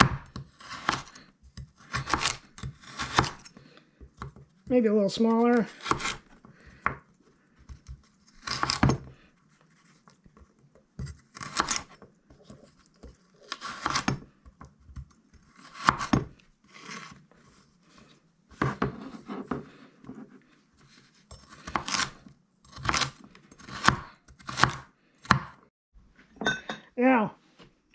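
A kitchen knife dicing carrots and celery on a cutting board for rustic lentil soup, in bursts of quick rhythmic chops separated by pauses, with a person speaking in between.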